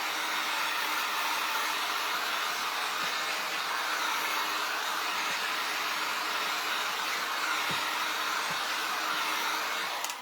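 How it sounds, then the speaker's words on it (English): A hair dryer blows on a craft wreath to dry the glue, a steady airy whoosh with a faint motor whine, held at constant loudness for the full length, close by and with no speech. "I'm going to use my dryer because all I see is glue."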